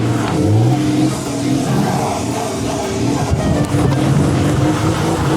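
A BMW car engine revs hard nearby, its rough, loud mid-pitched roar rising and holding for several seconds in a continuous burst with no speech over it.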